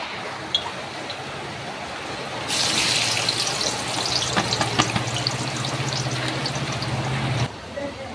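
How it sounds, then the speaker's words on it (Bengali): Onions dropped into hot oil in a kadai for mutton kolija bhuna, a sudden loud, steady sizzle breaking out and frying continuously, with faint background speech. "এবার দিয়ে দেবো পেঁয়াজ।"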